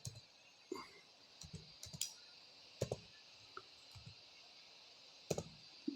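Keys clicking on a computer keyboard while a search term for a medicine is typed into a search bar, a sparse run of separate taps with short pauses, close and fairly quiet, no talking.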